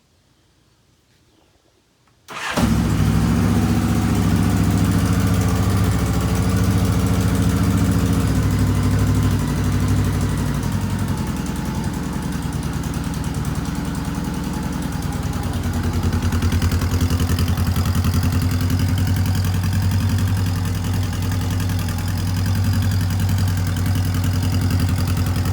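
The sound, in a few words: Honda Goldwing motorcycle engine cold start, idling with choke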